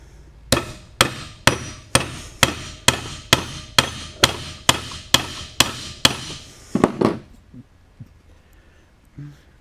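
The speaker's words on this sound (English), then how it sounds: "I'm going to use the hammer and drive this rivet just like I did on the seat tracks." A hammer drives a rivet for a seat track held in a vise, striking about a dozen sharp, evenly spaced blows close up, then a few quicker taps before it falls quiet.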